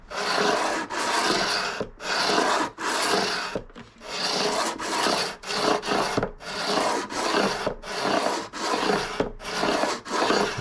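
Guitar frets on a Bedell Encore orchestra cutaway being filed level with long rasping strokes, a steady series of loud, even back-and-forth passes separated by brief pauses, close up with no talking.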